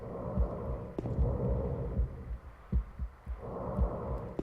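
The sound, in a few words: heartbeat sound in video game Silent Hill 2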